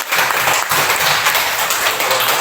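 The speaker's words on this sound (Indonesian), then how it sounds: "Tepuk tangan untuk kelompok Once." A classroom audience applauding the group Once, dense continuous clapping at close range that carries evenly through the moment without a break.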